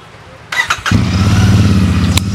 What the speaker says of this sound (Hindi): अब मैं सुनाता हूँ आपको एग्जॉस्ट साउंड